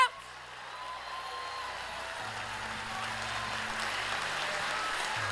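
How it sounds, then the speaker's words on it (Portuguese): Church congregation clapping during a worship service, a soft, steady wash of applause heard from a distance under a low sustained hum and held tones, continuing evenly throughout. "Mistura essas palmas com glória a Deus."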